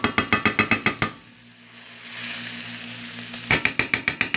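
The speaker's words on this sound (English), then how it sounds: "just put the cream cheese into the skillet" Cream cheese broken up and stirred in a skillet with ground pork, rapid rhythmic spatula taps against the pan, a pause with soft sizzling, then the quick tapping resumes.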